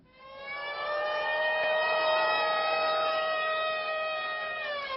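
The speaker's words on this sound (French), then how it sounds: "Le hurlement des sirènes," A single long, wailing air-raid siren near Tetovo swells up, holds a steady rising and falling howl, then begins to fade, loud and alone.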